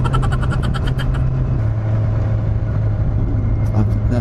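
Road traffic heard from a moving motorcycle on a rainy morning, a loud continuous engine rumble and wind roar with passing vehicles, the rider's own motor dominating close up.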